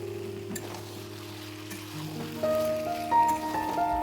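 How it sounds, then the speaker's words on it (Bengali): Cooked vegetables are stirred into an apple snail curry with taro and spinach in a pan, a soft low sizzle and stirring rustle under a steady hum, with some higher tonal sounds joining toward the end. "আগে রান্না করে তুলে রাখা সেই সবজিটা দিয়ে দিলাম ভালো করে মিশিয়ে নিচ্ছি"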